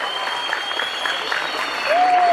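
Outdoor crowd at a keşkek festival in Süleymanpaşa gives a thin, scattered round of applause, fairly faint and distant, with a whistle-like tone near the end.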